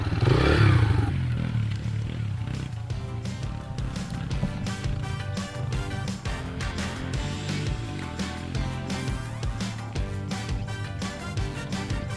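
A dirt bike ridden nearby with the engine revving and shifting up through the gears, loud and continuous, with rattling clatter over the motor.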